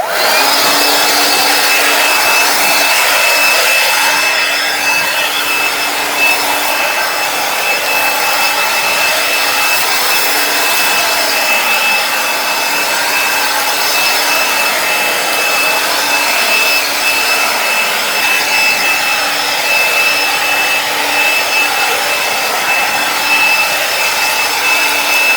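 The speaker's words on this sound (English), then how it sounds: "I'll start up my blower, and I'll give this path a bit of a blow" A battery-powered garden leaf blower, run on Makita-compatible batteries, blows a path in a steady, loud, continuous whine with a constant tonal hum, holding nearly unchanged throughout without pauses.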